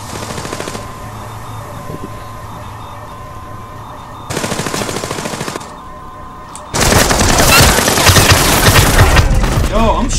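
Bursts of automatic gunfire in Splinter Cell Blacklist's Spies vs Mercs mode, with a short volley early, a second burst midway, then a loud sustained fusillade filling the last few seconds.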